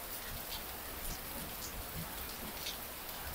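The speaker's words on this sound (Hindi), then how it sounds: "बहुत बारिश हो रही है।" Heavy rain falling steadily and densely, a continuous hiss with scattered drops striking nearby surfaces, heard alone without voices.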